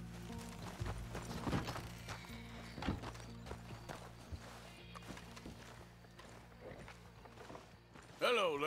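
Horses clip-clop at a walk in a Red Dead Redemption 2 western setting, steady hoof beats running under continuous game background sound and dialogue, with a brief sharp sound near the end.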